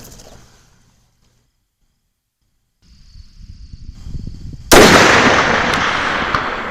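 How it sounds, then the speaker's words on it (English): Single sharp, loud crack of a Sig Sauer Cross .308 rifle firing on a 400-yard range, bursting out after a near-silent pause and trailing into a long, fading rumble. "I am going to take a couple shots on each target."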